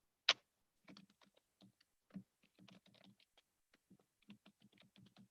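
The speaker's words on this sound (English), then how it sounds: "typing a few things in" Fingers type on a computer keyboard in a quiet room, soft irregular clicks in short runs with one louder tap at the start.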